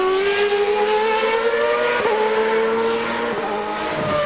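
CART race cars with 2.65-liter engines scream past during 2002 qualifying at Road America, a loud, sustained high-pitched engine whine that rises and falls as the cars accelerate and shift, echoing off surrounding trees.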